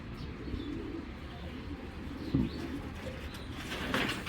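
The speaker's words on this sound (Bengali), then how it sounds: "আমি এই কবুতরটা দেখাই আগে, এই দেখেন" Soft, low pigeon coos repeat against a faint background hum, with a brief rustle midway.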